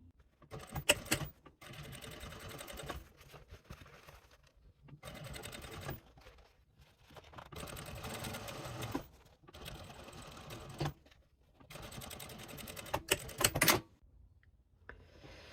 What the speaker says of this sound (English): So pull, pull, pull, and just top stitch right here on the bottom panel.